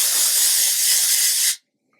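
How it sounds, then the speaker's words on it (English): Living Proof Full Dry Volume Texture Spray sprays from its can onto hair roots in one steady, loud hiss lasting about a second and a half, then cuts off sharply into silence. "I'm going to go in first with the Living Proof Full Dry Volume Texture Spray. I'm just going to spray this in the roots"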